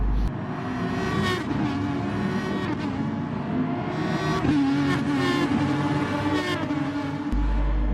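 Aston Martin GT3 race cars in Gran Turismo at Interlagos, Brazil, roar past with high revving engines rising and falling through gear changes, several cars in close succession, loud and continuous.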